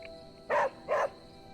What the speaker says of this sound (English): You're such a little doggy.